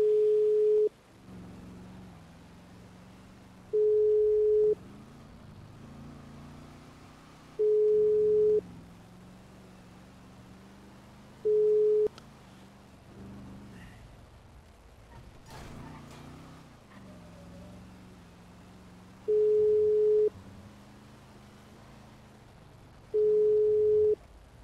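A repeating unanswered-call tone plays inside a GTA roleplay game: short, steady electronic beeps, each lasting about a second, recurring at irregular intervals several seconds apart over a low background hum.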